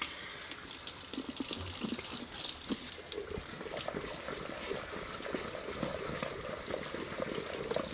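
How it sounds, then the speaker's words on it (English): Tap water runs steadily into a kitchen sink while cooking ingredients such as apple bananas are rinsed, a continuous close splashing hiss with small irregular bursts and no talking. "while I'm here with the water, I'll also start washing some of these ingredients"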